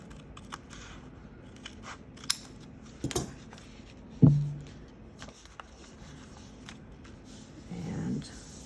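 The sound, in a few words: scissors trimming paper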